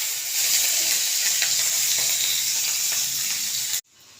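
Green chillies and garlic sizzle hard in hot mustard oil, a loud, steady, close frying hiss that cuts off abruptly near the end.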